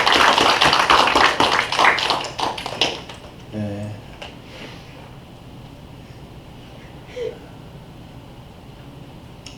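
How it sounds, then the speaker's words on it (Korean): A church congregation at a Sunday service claps warmly for a couple of seconds, then the applause tapers off and fades into quiet room ambience with a few faint noises. "힘내시면서 뜨겁게 박수 주시면 감사하겠습니다."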